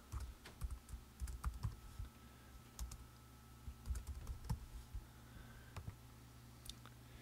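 Steady clicking of typing on a computer keyboard, with quick irregular keystrokes running throughout at a modest level, heard alone with no talking.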